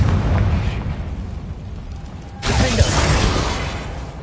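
The Confringo fire-blast spell in Hogwarts Legacy on PS5, a loud sudden burst that cuts in midway after a low rumbling stretch and leaves a crackling, booming tail.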